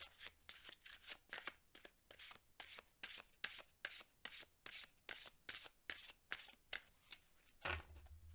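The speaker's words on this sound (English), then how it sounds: "One more shuffle." A deck of tarot cards is shuffled repeatedly by hand, producing a rapid regular series of crisp riffling bursts, close and fairly quiet, with a soft thump at the end.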